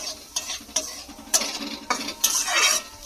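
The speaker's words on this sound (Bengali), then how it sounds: "দিয়ে খুব ভালো করে ভেজে নেব, মানে মিশিয়ে নেব আগে" A spoon scrapes and stirs a potato and sattu mixture in a hot pan with oil, giving repeated close strokes over a steady sizzle, with no talking.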